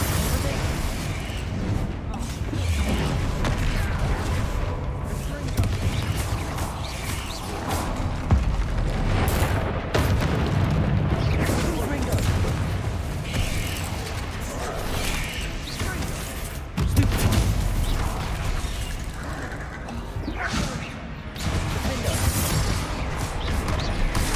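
Confringo spell blasts and battle clamor while fighting trolls in Hogwarts Legacy, a dense, continuous roar of booms, crashes and rumbling impacts throughout, with a player shouting over the fight.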